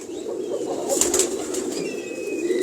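Domestic breeding pigeons in a fancier's loft coo in a low, continuous murmur. A brief flurry of wing flapping cuts through near the middle, and no one speaks.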